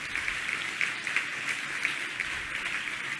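An audience claps to welcome a guest at a gurukul campus gathering, a fairly faint, steady patter of hands with slight pulses, heard from a distance.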